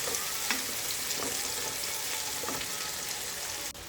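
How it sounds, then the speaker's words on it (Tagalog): Onion, tomato and garlic sauté in a pan, a dense close-up frying hiss with faint stirring scrapes that continues steadily before a brief dip at the end. "inilagay ko na yung sibuyas at kamatis. Minekos-mekos ko lang po."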